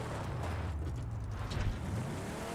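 A car in a shooter video game rolls past nearby with a low rumbling engine and road noise that swells slightly and then fades, heard alone without talk.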